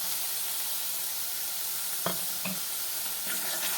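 Spices frying in a hot pan give a steady, close sizzle, with a few soft scrapes and clicks of stirring near the end.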